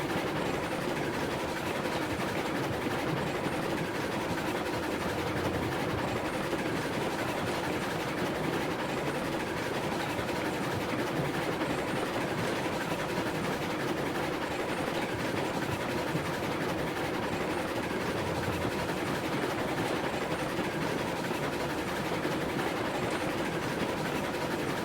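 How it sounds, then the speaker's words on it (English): Train engine noise from the railroad video game Railroads Online, a steady rumbling drone with faint clattering that runs evenly and fairly quietly for the whole stretch, with no voices over it. "Most of the engine sounds are the same across different trains in a way."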